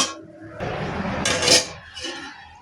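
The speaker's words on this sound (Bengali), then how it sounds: "এখন এটাকে ঢাকনা দিয়ে ঢেকে এক সাইডে রেখে দিব।" A metal lid is set over a cooking pot on a gas stove, giving a short scraping clatter and a bright clink, followed by a fainter settling rattle.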